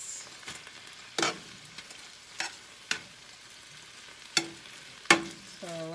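Onion sautés in a pan for chicken Alfredo, a quiet low sizzle punctuated by several sharp utensil clinks and scrapes against the pan.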